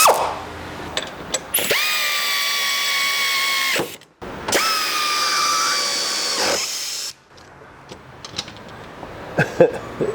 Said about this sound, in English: Last thing to do is tighten up the 3 bolts on top.